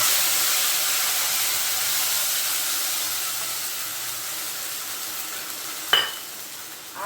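Spice paste ground in a mixer hits a hot pan with cumin seeds and bay leaf, letting off a steady, fairly loud sizzle and hiss that slowly eases, with one brief spoon clank near the end.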